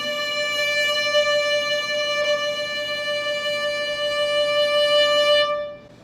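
A violin holds a sustained bowed note with steady, single-speed vibrato for several seconds, played alone at moderate loudness before fading out.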